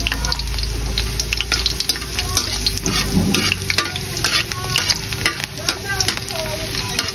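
Garlic fries in a pan for adobo, giving a continuous close sizzle broken by scraping stirring strokes throughout.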